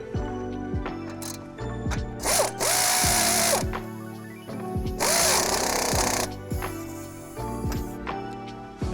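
A power tool tightens a nut on the front suspension of a 2014-2017 Mercedes-Benz S550 AWD, with two loud, sustained, ratcheting whirring bursts and pitch sweeps from spinning up and down, close and clear.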